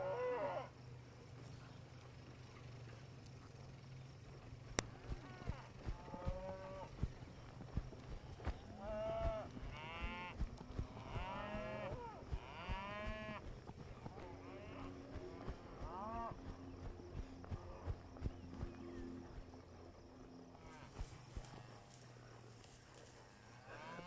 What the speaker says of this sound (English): it should draw these cattle towards the camera to my right